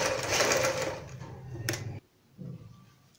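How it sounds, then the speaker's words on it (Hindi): A sewing machine stitches around a kurti's back neckline lined with buckram, whirring steadily up close for about two seconds, stopping abruptly, then giving one brief final burst. "पूरे गले में बुकरम के साथ साथ सिलाई को कंप्लीट करेंगे।"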